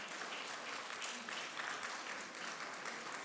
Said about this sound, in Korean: 우리 박수로 한번 다시 격려하시면서 고맙습니다